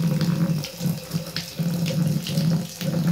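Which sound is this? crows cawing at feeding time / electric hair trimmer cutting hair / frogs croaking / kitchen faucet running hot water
kitchen faucet running hot water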